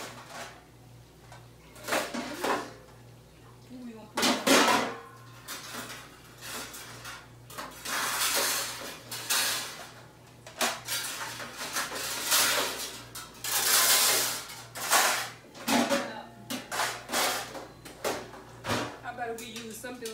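Metal pans clank and scrape as they are pulled from a kitchen cupboard while making hot water corn bread, with repeated loud bangs, rattles and a cupboard door, under intermittent talk.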